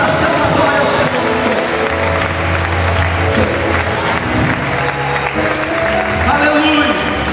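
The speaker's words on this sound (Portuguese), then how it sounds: "Em nome de Jesus, aplauda o Senhor." A church congregation claps and applauds during a Portuguese-language worship sermon, a steady broad wash of clapping mixed with crowd voices and speech running through the whole stretch.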